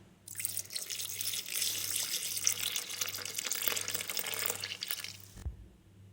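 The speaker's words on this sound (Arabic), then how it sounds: "ونضيف ربع لتر من الحليب" A quarter litre of milk pours into a juice mixture of sugar and vanilla yogurt as a steady, gurgling stream for about five seconds. It ends with a soft low thud.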